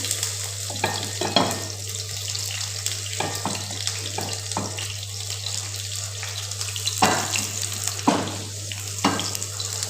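Onions and garlic fry in hot oil on a stove, giving a steady sizzle under a constant low hum, broken by intermittent clatters and scrapes of a utensil, with no talking.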